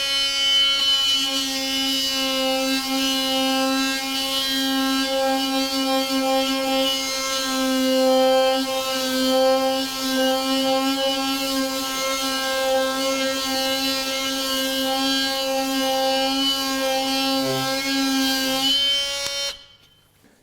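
A Ryobi 18V ONE+ HP brushless multi-tool (PBLMT51) sands with an 80 grit pad, giving a loud, steady buzzing hum that runs continuously, then stops abruptly at the end.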